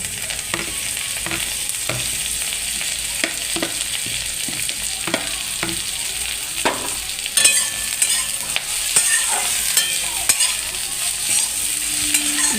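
Pumpkin leaves frying in a hot pan, with repeated scraping stirs of a spatula over a steady sizzle, close and fairly loud.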